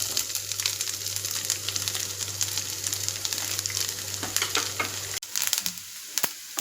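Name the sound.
grated coconut frying in hot coconut oil in a pan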